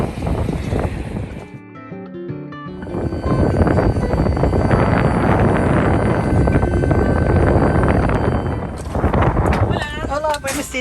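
Steady broadband roar of an airplane cabin in flight to Tenerife, loud and continuous, with people talking over it early on and again near the end.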